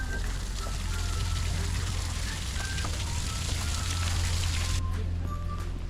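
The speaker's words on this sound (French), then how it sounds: "Il pleut" Steady rain pours down around a campsite tent near Europa Park, a dense, even patter with a low rumble that holds nearly the whole time before easing slightly at the end; no one speaks.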